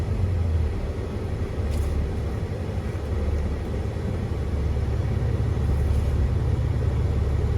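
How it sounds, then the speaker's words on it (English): A Volvo D13 diesel truck engine runs at fast idle outdoors, a continuous low, heavy rumble with a faint higher whine, no talking. "let's go outside and have a listen to this truck running"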